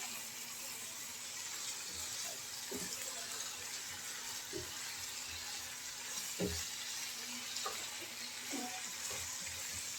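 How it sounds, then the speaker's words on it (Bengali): A spice paste with ground mustard sautés in a pan, giving a soft, continuous sizzle with occasional faint scrapes of stirring, quiet and nearby. "খুব ভালো করে কষিয়ে নিয়েছি মশলাটা"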